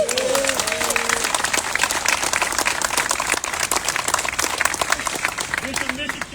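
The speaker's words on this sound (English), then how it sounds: "Give yourself a round of applause" Audience applause at the Safe Summer 2025 community event: loud, dense clapping from a crowd, continuous and close, with a voice heard briefly at the start and near the end.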